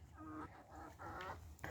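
Chickens being let out of their coop give excited, honking squawks in several short bursts, close by and fairly quiet.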